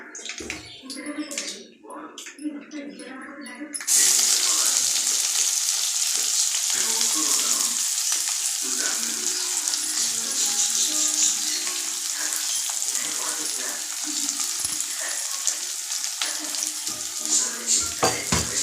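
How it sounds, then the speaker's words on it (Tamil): Chopped onions and a green chilli sautéing in a pan for a wild-greens kadayal: a loud, continuous sizzle starts suddenly after a few quieter seconds of handling and stays strong, with stirring scrapes throughout. "நல்லா வதக்க வதக்க வதக்குன்னு வதக்கலாம்"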